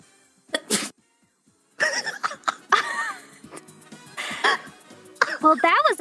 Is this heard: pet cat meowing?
no